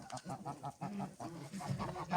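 Grey and white geese honk in a rapid, nasal series of calls close by, several birds overlapping in an irregular rhythm during an icy winter day.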